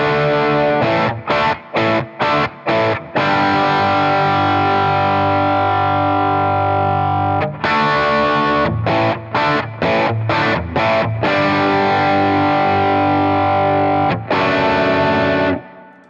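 Distorted electric guitar through a Boss Katana amp on its 0.5 watt setting plays bursts of choppy chugged chords, then long sustained chords ringing out in a room.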